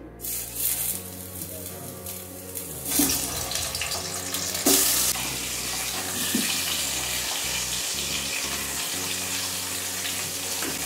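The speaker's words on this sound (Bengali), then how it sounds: "এবার আমি আলুগুলো এতে ভেজে নিচ্ছি" Potatoes fry in oil in a nonstick wok with a loud, steady hissing sizzle over a low droning hum in the background.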